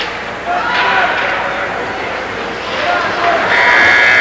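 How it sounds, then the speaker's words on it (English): A harsh buzzer ending a hockey period sounds over a noisy arena crowd, fading and then blaring again near the end, with cheering and voices throughout. "And the buzzer goes to end the first period."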